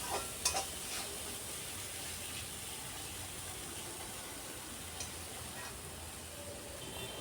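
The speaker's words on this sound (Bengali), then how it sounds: "সব কিছু দিয়ে এখন কিছুক্ষণ কষিয়ে নিতে হবে, যাতে টমেটোটা গলে যায় আর মশলা থেকে তেল ছেড়ে আসে।" Tomato and ground spice mixture stir-fried in a pan for a Bengali kakrol (spiny gourd) dish, giving a steady soft sizzle and hiss with occasional light scrapes of a spatula, no talking.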